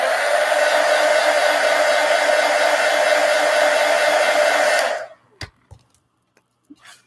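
A hair dryer blows steadily and loudly at close range over a layer of watercolor marker on paper, then switches off abruptly, leaving a few faint clicks and handling noises.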